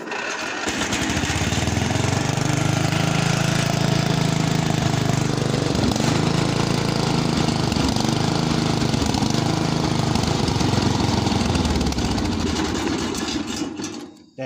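A Ranch King riding mower engine, long unused and burning a little oil, is cranked without choke and runs roughly in a loud, close, steady rumble for over ten seconds before cutting out.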